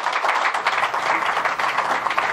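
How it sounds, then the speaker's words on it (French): A symposium audience claps for a federal representative, a dense, steady round of applause from many hands at moderate distance. "Nous allons encore une fois applaudir très fort le fédéral"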